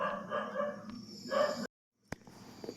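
A dog barks a few times at night, faint and distant, in short bursts separated by quiet gaps.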